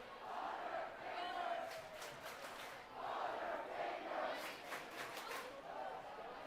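A crowd of children at a Friday-night varsity high school football game between Eastlake and Mount Si reacts to a missed pass, their distant voices rising in two or three swelling waves of shouts and groans.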